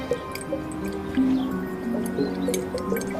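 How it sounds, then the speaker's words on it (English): Water drains through a pipe from a top vessel into a bottom vessel of a fountain model, gurgling and dripping with wet squishy bubbling, close and continuous. "We can see the water is draining from this top vessel as fast as that pipe will carry it really down into the bottom vessel."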